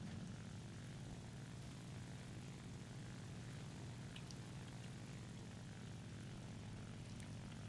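A Fw 190 A-8 fighter's piston engine roars in War Thunder, a dense, steady propeller drone held at constant loudness from start to finish, with no voices.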